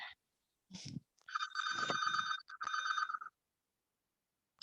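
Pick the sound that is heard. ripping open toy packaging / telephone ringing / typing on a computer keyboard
telephone ringing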